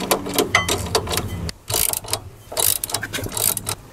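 A ratchet tightens new nuts on the three bolts of a car's wishbone ball joint, giving close, loud bursts of rapid clicking separated by short pauses and the clink of the tool and metal parts.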